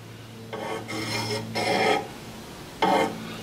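A file rasps across a wood lathe tool rest in three short, close strokes, each a gritty scrape under a second long with brief pauses between, no talking.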